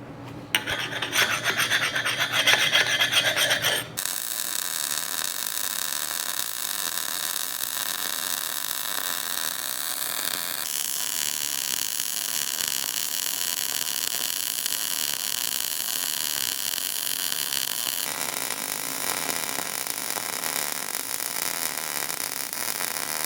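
Steady, harsh hiss of sandblasting on a metal lifting boom attachment, continuous and close, with a sharper burst at the start then an even abrasive roar throughout.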